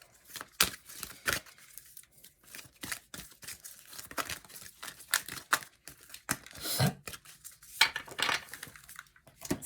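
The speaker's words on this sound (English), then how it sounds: "I'm going to go ahead and shuffle each deck that has been cleansed with the energy of the crystals" Crisp riffling and slapping of cards being shuffled, irregular bursts of flicks and taps up close, fairly quiet with no talking.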